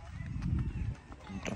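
Horse hooves clip-clop at a steady walking rhythm during a ride through a village, close and moderately loud, with some low background rumble and faint talk mixed in.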